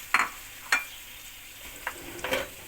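Onions, peppers and tomatoes cook in a pan for menemen: four or five sharp, close stirring scrapes cut through a soft background sizzle.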